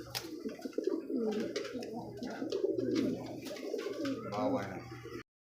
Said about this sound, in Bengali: দর্শক বন্ধুরা দেখতে পাচ্ছেন চমৎকার একজোড়া বোম্বাই কবুতর হোয়াইট বোম্বাই